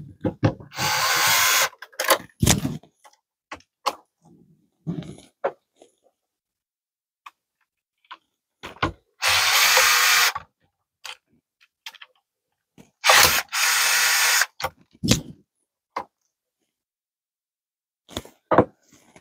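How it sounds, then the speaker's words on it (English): A power drill with a square bit works screws on circuit breakers during a popup camper's battery and converter upgrade, firing in loud, short whirring bursts separated by silence and small clicks. "we're going to use our square drill bit and remove the wires from the breakers themselves"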